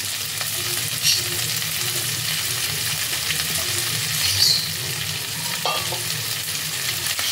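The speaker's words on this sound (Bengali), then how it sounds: "এবার হাই হিটে সমস্ত সবজিগুলোকে ফ্রাই করতে হবে" Red, yellow and green capsicum fry over high heat in a pan, a loud steady sizzle with stirring scrapes running throughout and no voices.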